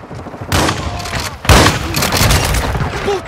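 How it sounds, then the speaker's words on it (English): A Semtex grenade explodes in a military shooter game, two loud close booms about a second apart followed by rumbling gunfire and battlefield noise, with voices under it. "Semtex incoming!"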